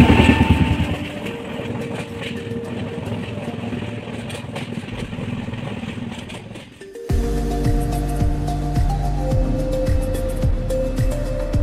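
A North East Express train at New Bongaigaon station in Assam, running late, gives a continuous low rumble that swells louder and heavier about seven seconds in, as the train starts moving and the wheels begin turning.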